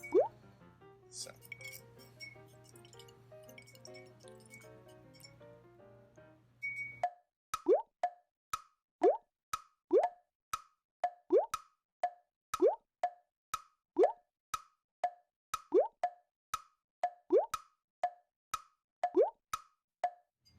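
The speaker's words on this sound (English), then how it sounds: "We're going to see how many spoonfuls of sugar this water takes." Spoonfuls of sugar drop one after another into a glass of steaming hot water, each making a crisp plop with a faint clink, repeating in a steady rhythm after someone talks at the start.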